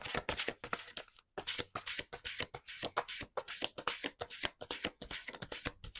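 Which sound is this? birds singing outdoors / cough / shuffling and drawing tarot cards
shuffling and drawing tarot cards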